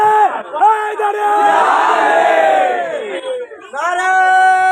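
A large crowd roars back "Ya Ali" in answer to a Nara-e-Haidari chant call at a religious gathering for Imam Ali's birth anniversary, a loud, sustained massed shout after a leader's voiced call, with amplified voices around it.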